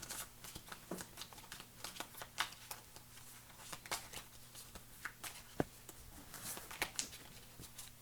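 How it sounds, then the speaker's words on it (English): Quiet, rapid flicks and riffles of a deckbuilding game's cards being shuffled, with crisp clustered bursts repeating steadily at close range under a faint hum. "let me go ahead and shuffle these"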